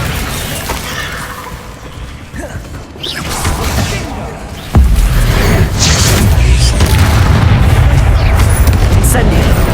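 Incendio fire spell cast in the Hogwarts Legacy video game, a sudden loud whooshing burst about halfway through that settles into sustained roaring flame and rumble, with game effects beneath.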